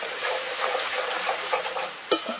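Spice masala with Kashmiri red chilli powder and garam masala fries hard for a dhaba-style katla fish curry. It gives a dense, close sizzle with light stirring and one sharp utensil knock near the end, with no talking.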